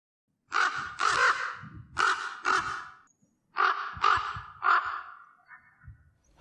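On a mountain at night, a bird gives loud, harsh, crow-like caws in two groups of repeated calls separated by a brief silence, close and clear, with no speech.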